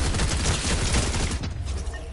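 Dense burst of gunfire in the video game Fortnite, rapid overlapping shots forming a loud, continuous rattle that thins out toward the end, with no talk.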